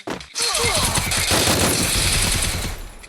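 Rapid automatic gunfire from a shooting video game, a loud dense burst that starts after a short pause and continues nonstop, with a few faint voice-like tones near the start.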